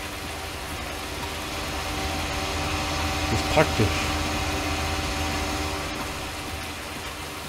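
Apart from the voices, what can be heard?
tractor engines running, Fendt tractors in farming video game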